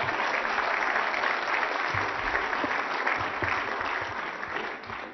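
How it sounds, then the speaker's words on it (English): Steady applause from a crowd at a community gathering, continuous clapping that stays loud throughout and tapers slightly at the end. "Let's have a round of applause for our superintendent."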